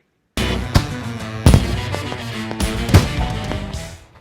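Firecrackers go off as a sound effect in a TV news show segment: three sharp, loud bangs come at irregular intervals over a crackling, popping background, with no talking.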